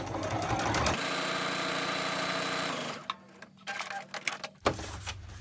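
Sewing machine stitching fabric strings onto a paper foundation for a scrappy string quilt block, a steady close mechanical whir for about three seconds, then stopping, followed by a few faint handling clicks and rustles.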